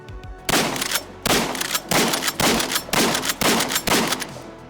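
A SPAS-12 shotgun fires about seven loud, sharp blasts in quick succession, each cracking out close by with a brief echo, and no talking over the shots.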